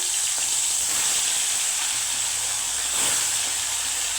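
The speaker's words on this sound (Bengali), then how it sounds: "তেলটা সুন্দর গরম হয়ে গেছে আমি এক পিস করে মাছ দিয়ে দিচ্ছি" Fish pieces fry in hot mustard oil in an iron wok, giving a loud, continuous close-up hiss and sizzle with a brief surge partway through and no talking.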